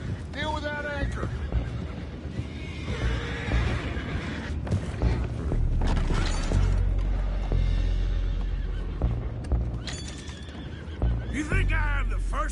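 Horses neighing and whinnying with clopping hooves in the Red Dead Redemption 2 video game, loud whinnies near the start and end amid busy game sounds and voices.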